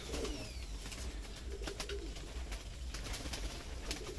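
A tired racing pigeon resting after a training flight coos softly and intermittently against faint background noise and distant chirps, with no speech.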